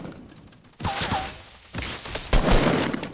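Video game gunfire in a squad shooter match, with several loud bursts of shots and impacts in quick succession, near and sharp, with a brief high whistling tone between volleys.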